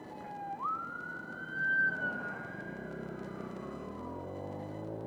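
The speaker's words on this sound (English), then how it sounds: "We're gonna have to stop for the police car." Police car siren passing on a suburban main road, a single long rising then slowly falling wail over steady traffic rumble, fairly distant and moderate in level.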